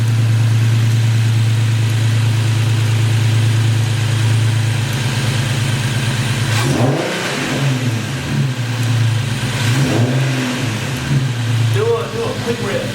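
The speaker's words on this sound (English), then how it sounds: "Rev it a little bit." An Infiniti Q60 fitted with a Takeda Stage 2 cold air intake idles steadily up close, then gets blipped in a few quick throttle revs that rise and fall over the running engine.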